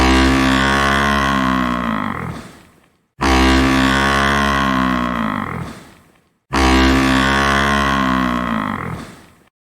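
A buffalo gives three long, deep, moaning bellows, each a few seconds long and tailing off into a breathy rumble, loud and close with brief gaps between.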